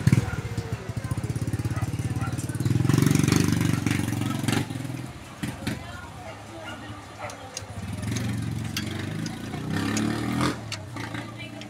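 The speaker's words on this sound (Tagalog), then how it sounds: "Nakahanda na yung motor ko para lalarga na tayo" A motorcycle engine idles close by, then revs up as the rider sets off, surging and easing in uneven bursts, with someone speaking over it now and then.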